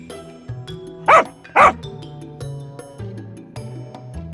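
A dog gives two sharp, close barks about half a second apart, with light music underneath.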